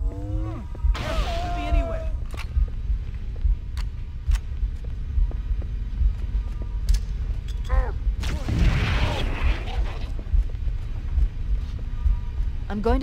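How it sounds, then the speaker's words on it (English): Two booming frag grenade explosions in Halo: Combat Evolved burst a few seconds apart amid background game noise and scattered smaller impacts, with a voice talking. "Frags work wonders here, so throw a couple of them."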